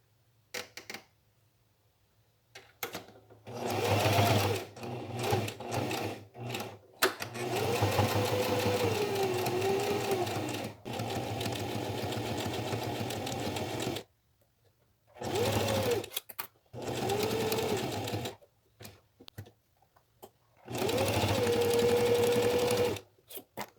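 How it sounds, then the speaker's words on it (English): A sewing machine stitches around three sides of a bag with a quarter-inch seam, running in several whirring bursts of a few seconds each, separated by short quiet pauses. "Pin, take it to your sewing machine. Sew around the 3 sides using a 1/4 inch seam allowance."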